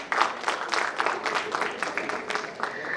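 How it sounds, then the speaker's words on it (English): Audience applause at a panel discussion during a book fair in New Delhi, a patter of clapping with distinct strokes running throughout, mixed with faint background voices. "Please give him a round of applause."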